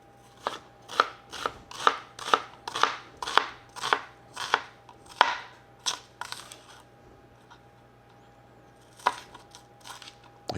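Freshly sharpened kitchen knife chopping shallots on a board, a run of about a dozen crisp, evenly spaced close knocks, then a pause and a couple of final chops.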